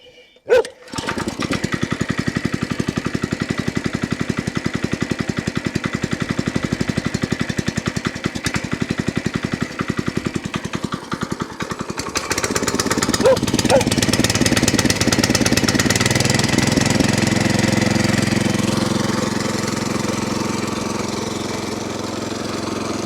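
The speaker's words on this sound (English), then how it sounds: "this rotavator that I've just bought is going to do a sterling job" A small petrol rotavator engine runs steadily and loud, rising in pitch and intensity partway through as it works under load tilling a vegetable patch in Portugal, with no talk over it.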